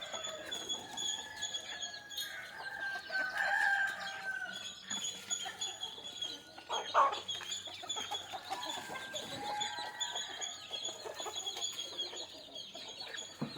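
Country chickens inside a net enclosure cluck and murmur continuously nearby, with occasional louder squawks rising over a busy farmyard background.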